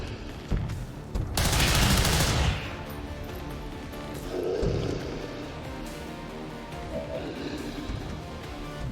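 Soldiers in the XCOM 2 video game fire a loud burst of gunfire that lasts a second or two, followed by a rumbling impact and quieter game sounds.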